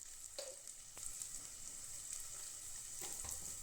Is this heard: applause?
no